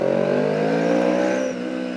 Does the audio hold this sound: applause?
no